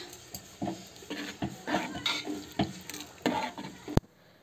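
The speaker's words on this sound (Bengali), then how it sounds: "তো তাড়াতাড়ি আমি একটু মাছটা ভাজছিলাম" Fish frying in a pan as cooking begins for a birthday, with bursts of sizzle and scraping stirs of a spatula against the pan, ending in a sharp clatter.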